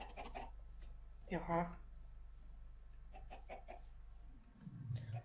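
A chicken in the video game Minecraft gives short clucking calls, a quick burst near the middle and a low one at the end, heard alongside a person talking.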